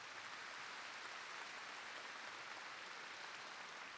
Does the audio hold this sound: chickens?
no